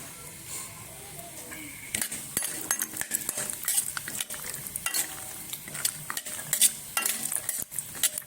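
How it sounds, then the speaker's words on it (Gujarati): Peanuts roast in hot oil in a pan on a home stove, stirred with a metal spoon that clinks and scrapes against the pan in irregular bursts over a soft, steady sizzle. "પહેલાં તો આપણે તેલ એડ કરીશું અને પહેલાં તો થોડાક સિંગદાણા આપણે શેકી હોય"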